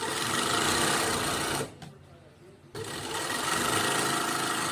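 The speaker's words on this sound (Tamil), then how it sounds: "இது எல்லாத்துலேயுமே இப்படி ஒவ்வொரு தையல் போட்டு மறுபடியும் படிம தையல் ஒன்று போட்டுக்கணும்" Sewing machine stitching a blouse sleeve, running loud and close with a dense continuous whir that cuts out for about a second before resuming.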